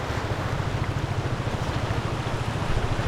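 A steady, low motor drone from an approaching boat rumbles over wind and water noise, holding fairly even with a slight swell near the end.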